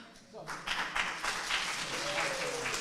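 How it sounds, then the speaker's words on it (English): Congregation at a Shabbat family service in a temple begins clapping after a brief pause, the applause swelling into a steady broad patter with a voice faintly heard beneath it. "Applauding yourselves."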